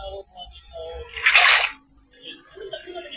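A brief splash of running water in Minecraft gushes for about half a second, loud and close, between quiet stretches with faint talk.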